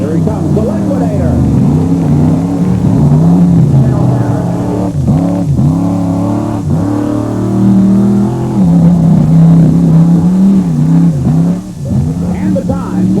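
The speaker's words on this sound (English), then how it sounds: "It's a 1988 Ford. He's got a 460 cubic inch Ford engine under the hood" A 1988 Ford truck with a 460 cubic inch Ford engine, five-ton rear end and Rockwell transfer case, roaring steadily through a four-wheel-drive power competition run, loud and continuous with rising and falling revs under an announcer's voice.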